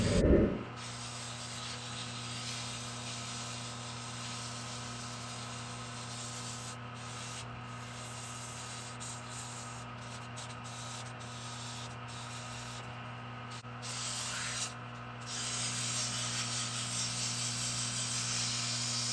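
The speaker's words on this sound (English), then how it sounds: "I taper the blade, and then start sanding" Sandpaper working along a tapered wooden wand blade, a steady close rubbing hiss that runs on without a break and swells slightly toward the end.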